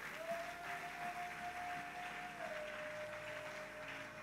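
A church congregation applauding, a soft, steady clatter of many hands at a distance, with a sustained held instrument tone beneath.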